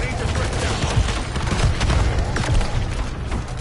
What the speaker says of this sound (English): I got a mortar strike on him